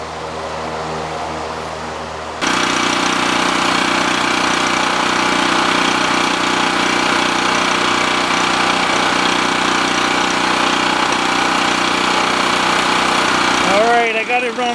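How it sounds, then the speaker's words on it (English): A generator at a rustic log cabin deer hunting camp cranks over and catches after a couple of seconds, then settles into a loud, steady idle with a running hum that holds to the end, with a voice briefly heard near the close. "Let's see if we can get this generator started."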